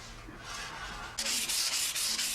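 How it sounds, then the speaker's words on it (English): Hand sanding of a French-polished cabinet finish coated in button polish, a soft steady rubbing that becomes louder and brighter partway through, with rhythmic strokes close up and no talking. "Another sanding, but only after the French polish has been allowed to cure for a week."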